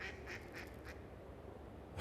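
Ducks quack at a lake on the outskirts of Tomaszów Mazowiecki, with a few short calls early on, then quieter background ambience outdoors, no talk.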